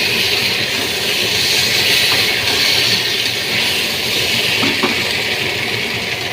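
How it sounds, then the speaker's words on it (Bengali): Water poured into a hot kadai during cooking of dhoka dalna, giving a steady, loud, broadband sizzle and hiss that lasts throughout without a break. "সামান্য পরিমাণে জল, যাতে কড়াতে লেগে না যেতে যায় তার জন্য।"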